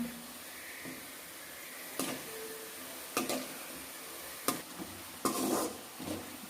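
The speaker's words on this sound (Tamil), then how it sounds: "நல்லா கோல்டன் ப்ரௌன் ஆகிற வரைக்கும் ஃப்ரை பண்ணிடுங்க" Wheat shakarpare dough pieces fry in hot oil, giving a steady soft sizzle with occasional sharp clicks and taps of a utensil against the pan.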